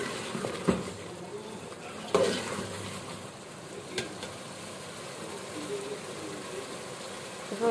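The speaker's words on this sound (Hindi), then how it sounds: "इसकी अच्छी तरह भुनाई रखते हैं।" Chicken curry masala fries in plenty of oil with green chillies added, a soft continuous sizzle with a few sharp clinks of a spoon stirring against the pot.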